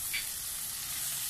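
Coriander and turmeric powder roast in hot oil in a pan with tomatoes, giving a steady, close frying sizzle and hiss throughout, with no talk.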